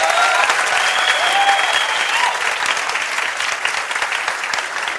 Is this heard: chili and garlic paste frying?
no